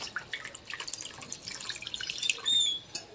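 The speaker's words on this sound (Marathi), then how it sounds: "आता हा कुकर मी उचलून नळाच्या खाली धरणार आहे." Tap water running over a hot pressure cooker held under the faucet: soft, quiet splashing and dripping with small irregular spatters, no voices.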